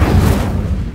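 A single Incendio fire spell cast in Hogwarts Legacy, a short loud whooshing burst with a low boom that fades within a second.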